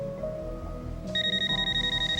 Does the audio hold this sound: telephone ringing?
yes